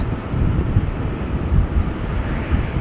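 A Boeing 787 Dreamliner at Amsterdam Schiphol Airport gives off a low, steady engine rumble under a low cloud ceiling, fairly loud and unbroken, mixed with gusty wind buffeting the microphone.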